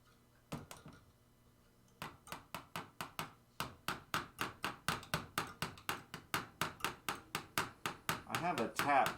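Large hammer tapping repeatedly, a few scattered knocks followed by a long steady run of sharp metallic strikes at close range, growing louder toward the end, with no talk.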